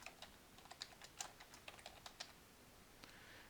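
Fingers tap a computer keyboard in quick, uneven bursts of light clicks, close and soft in a quiet room, with no one speaking.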